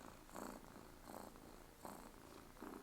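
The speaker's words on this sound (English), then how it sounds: "I don't know if you can hear him purring, but he's quite a loud purrer." A cat purrs loudly and close up, a steady rumbling that swells in rhythmic bursts with each breath, with no talking over it.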